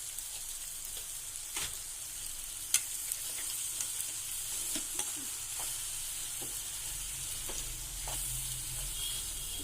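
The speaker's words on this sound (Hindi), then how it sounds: "और इसको आप अच्छे से चला लीजिए।" Pasta being stirred in a pan with soya sauce and mayonnaise, a soft continuous sizzle broken by repeated scraping and clicking strokes of a spoon, close and fairly quiet.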